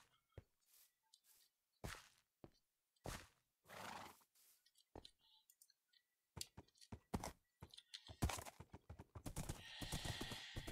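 A horse in a video game clip-clops in scattered bursts of hooves, with a neigh, thuds and a quicker run of hoof strikes building toward the end, close and crisp with no talk.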